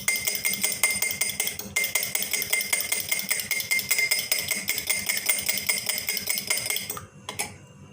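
Eggs beaten with about two tablespoons of mayonnaise in a bowl for a street-style anday wala burger: fast, steady clinking of a utensil against the bowl for several seconds, then it stops.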